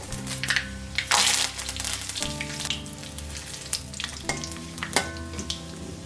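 Mustard seeds, two dried red chillies and curry leaves hit hot oil for a Kerala koottukari, bursting into loud crackling spatter with sharp pops and hissing flare-ups as each ingredient drops in, close and busy.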